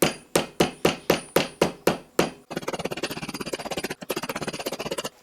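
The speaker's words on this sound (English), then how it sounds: "I've got a plastic hammer too, so let's see how this works" A plastic hammer taps aluminum sheet into a cup shape for a balsa and aluminum Whopper Plopper lure, first eight evenly spaced, ringing strikes, then a fast, steady run of lighter taps close by, with a brief pause near the end.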